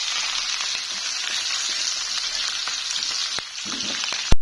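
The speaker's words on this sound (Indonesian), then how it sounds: "Ini bombaynya aku tumis dulu" Onion sautéing in oil in a frying pan, a steady close hiss with a few faint clicks of stirring, no voices.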